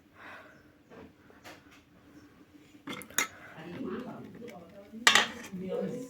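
A ladle scoops eggless Christmas cake batter from a bowl, with metal utensil clinks and scraping against dishes, a sharp clatter near the end, quiet and close throughout.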